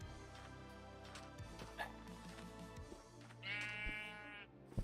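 Minecraft sheep bleat, a few wavering baa calls heard close, with a louder, longer bleat near the end over a faint background hum, no talk.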